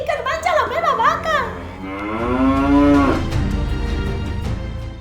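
A cow moos loudly and close, with a long, drawn-out bellow that rises and falls, following some brief higher cries.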